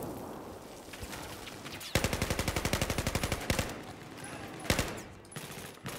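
An M416 rifle in Battlefield 4 squad deathmatch firing a long rapid automatic burst of about fifteen shots, then a few single shots over background game noise.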